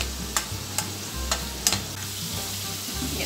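Garlic and huacatay sautéing in a pan give a steady low sizzle, broken by four sharp scraping stirs spread through the clip, with no voices.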